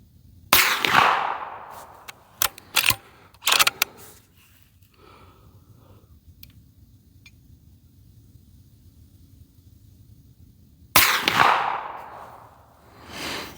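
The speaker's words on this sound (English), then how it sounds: "I'm gonna keep shooting into that same group." Sharp, loud shots from a Ruger American 300 Blackout SBR bolt-action rifle, one opening the clip and another after a long quiet gap, with a few smaller clacks of bolt handling between them.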